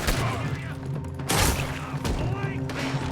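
Gunfire in Red Dead Redemption 2 striking the player's character during a shootout: repeated bursts and thuds, with a heavy boom near the middle, under ongoing game sound and voices.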